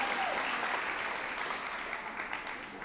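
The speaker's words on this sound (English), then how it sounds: "A round of applause, please." Studio audience applauding at a televised vocal battle show, a steady dense wash of clapping that holds for about three seconds and tapers slightly toward the end, with no voices over it.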